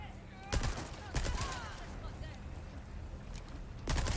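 SMG fire in Resident Evil 4 Remake, heard as three short, sharp bursts spaced apart, with quieter game ambience filling the gaps between them.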